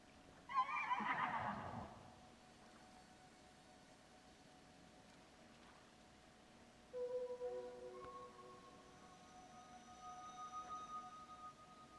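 A horse in the video game Tears of the Kingdom lets out one loud, clear whinny near the start, followed by quieter game ambience and faint tones.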